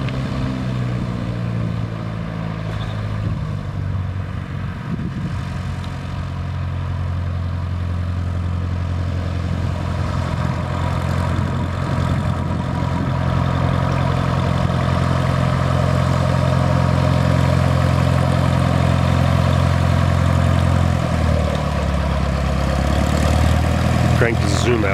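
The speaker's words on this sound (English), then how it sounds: "Here, we're going to get a little video of an airplane making the hill climb." Light propeller airplane at a small country airfield, its engine running at a steady, loud drone that swells slightly as power is added for an uphill climb on the runway, with a droning, mid-pitched hum throughout.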